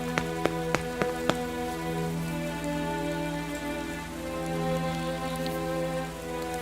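Rain falling on a city rooftop at night, a steady hiss of drops over a low sustained tonal drone, with a few sharp isolated ticks near the start.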